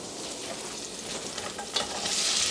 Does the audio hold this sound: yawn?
no